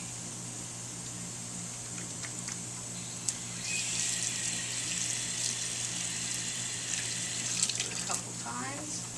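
Hands washed under a running faucet at a dental hygiene clinic sink, a steady close stream of water with splashing that grows louder midway as hands move through it, over a constant low hum.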